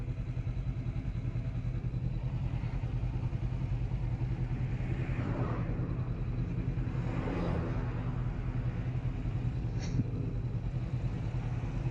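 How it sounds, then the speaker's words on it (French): A 2019 Honda CB500X motorcycle on the road near Lac de Carcès, its engine holding a steady droning rumble with wind noise, near and continuous, with no talk. "la moto c'est une CB500X de 2019"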